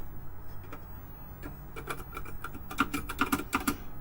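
Keys pressed on a 1970s Micro-Term ACT-1 computer terminal with a muddy-feeling keyboard, a close, irregular run of sharp clicks that grows busier toward the end, over a steady low hum.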